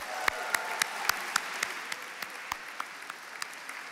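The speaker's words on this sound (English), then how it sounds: "please join me in a round of applause for our sponsors" At a business awards gala, an audience applauds the event's sponsors with a sparse, steady patter of claps that slowly thins and softens over several seconds. Only a few hands stand out above a low room hum.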